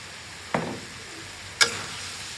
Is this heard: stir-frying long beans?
yes